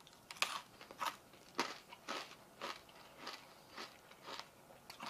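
Close, crisp crunching of brittle freeze-dried candy being bitten and chewed, a series of crackly bursts at an irregular pace, fairly quiet overall.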